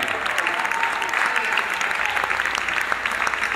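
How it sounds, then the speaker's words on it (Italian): Steady audience applause fills a live concert at the Piper club, dense clapping sustained throughout without pause, loud and close. "quindi si merita un applausone"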